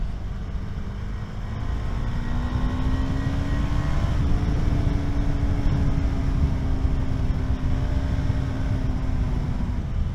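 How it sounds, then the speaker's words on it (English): KTM 390 Adventure single-cylinder motorcycle engine while riding on open roads, a steady close droning hum with a slowly rising and falling pitch, mixed with wind rush, no talking. "Such a good engine."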